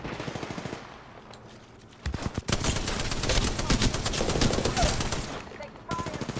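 Rapid automatic gunfire in the Apex Legends battle royale game, dense bursts of close shots rattling almost continuously after a quieter opening, with a voice speaking briefly amid the shooting.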